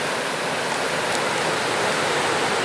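Clear mountain snowmelt runoff rushes steadily in a stream in a national forest, a dense, even broadband wash of flowing water, close and uninterrupted with no voices.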